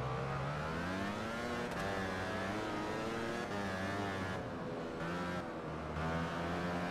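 A motorcycle engine in Valentino Rossi: The Game drones steadily at high revs with slight pitch shifts, continuous and fairly loud throughout, with no talking over it.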